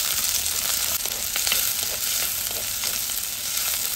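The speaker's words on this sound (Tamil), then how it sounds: "இப்ப இது எல்லாத்தையும் நல்லா வதக்கி விடுங்க." Onions, green chillies, dried chillies and curry leaves sauté for a dal curry with a loud, steady hiss of oil. Faint stirring scrapes rise occasionally above the continuous frying, close up and with no talk.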